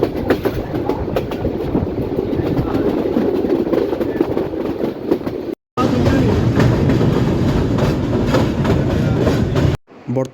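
The Parabat Express, train number 710, rumbles over the Kushiyara river bridge with loud, continuous clatter and rhythmic wheel clacking, heard close from an open carriage doorway. Two brief dropouts break the sound.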